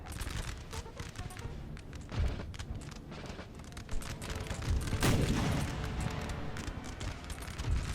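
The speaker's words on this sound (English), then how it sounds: "Oh, are you firing round shot?" Artillery firing round shot in a Napoleon Total War battle, with repeated booms and crackling musket volleys layered in a dense, continuous roar and one heavier blast standing out midway.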